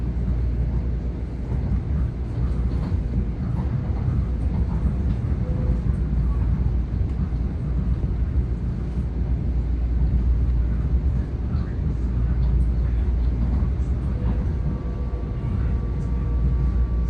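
MTA Metro-North M7A commuter train on the Hudson Line between Yonkers and Irvington, heard from inside as a steady low rumble and rolling hum that runs throughout, with faint track noise and a brief tonal whine near the end.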